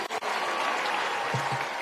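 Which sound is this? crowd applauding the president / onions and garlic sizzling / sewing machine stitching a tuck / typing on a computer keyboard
crowd applauding the president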